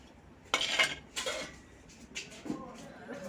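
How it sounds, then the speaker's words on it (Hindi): Garlic is cut with a knife in a home kitchen, several sharp clinking taps of blade and utensils against a plate or board, spaced irregularly and fairly close. "लहसुन वसुन काट रहे हैं।"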